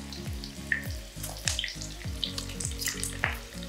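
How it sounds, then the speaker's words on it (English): Ingredients for a steak wrap cook in a pan with a soft sizzle, while a steady low mechanical pulsing repeats underneath, fairly quiet and close with no speech. "let that cook just a little bit for like over 2 minutes before you add your steak"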